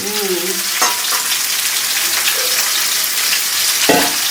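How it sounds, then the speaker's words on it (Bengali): Young ash gourd pieces frying in a wok, a loud, dense sizzle throughout, punctuated by a couple of brief stirring scrapes. "কচি কুমড়ো দিয়ে দিয়ে দিলাম কড়াইতে আর এটা একটু ভেজে নেব"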